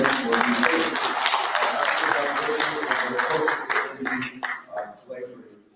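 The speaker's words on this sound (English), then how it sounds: "Let's give a round of applause again for" Conference audience claps in a dense round of applause that fades over the last two seconds into scattered claps, with voices murmuring under it.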